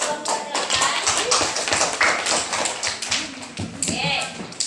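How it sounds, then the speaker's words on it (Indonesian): Classroom participants clap for a student group after its presentation in a teacher coaching session, a busy patter of hand claps and taps with voices chattering underneath throughout. "Tepuk tangan untuk kelompok 8."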